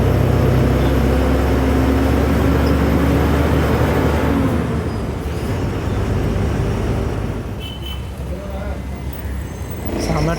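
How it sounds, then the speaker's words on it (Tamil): Heavy road traffic surrounds a bus on an intercity run from Coimbatore, with a steady loud engine drone and road rumble inside the cabin and voices talking over it. "செம்ம டிராஃபிக்குங்க."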